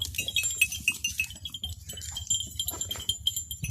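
Beetal goats on a village farm in Punjab bleat and call in quick, overlapping cries, close and fairly loud over rustling farmyard noise.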